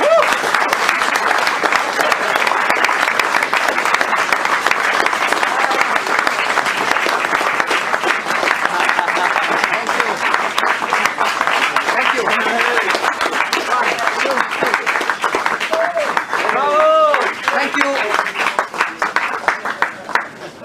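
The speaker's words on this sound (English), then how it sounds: "Can we have a round of applause and a little cake?" Long, loud, sustained applause for Giancarlo Fisichella at a Jordan Grand Prix event at Silverstone in January 2003. Thick clapping runs throughout, and scattered voices and cheers rise in the later part.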